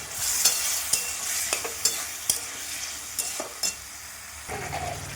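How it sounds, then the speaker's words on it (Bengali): Potato and pointed gourd pieces being stir-fried in a pan, a soft continuous sizzle with repeated spatula scrapes and clacks spaced irregularly, close and moderately loud, no talking. "ওইগুলো দিয়ে এবার পটল আলুটা একটু কষবো।"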